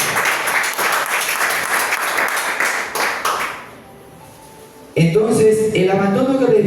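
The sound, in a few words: congregation applauding in church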